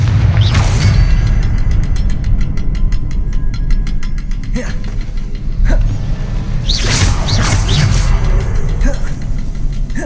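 Fiery Confringo blast spell in Hogwarts Legacy, a loud low boom bursting out near the start and again around the middle and late in the clip, over a dense rumbling game background with a ticking mechanical texture.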